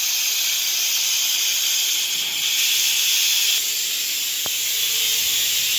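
A pressure cooker of boiled potatoes, switched off after two whistles, releases a steady, loud, unbroken hiss of steam for several seconds, with no talking.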